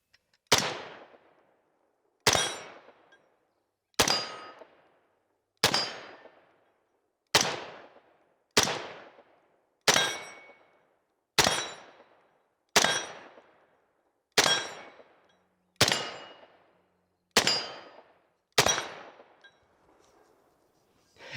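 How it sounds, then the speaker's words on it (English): An AR-style rifle with an interchangeable buttstock fires single semi-automatic shots, twelve sharp loud reports spaced evenly about two seconds apart, each with a short decaying tail, with no talking between them. "It shoots just like any other normal AR."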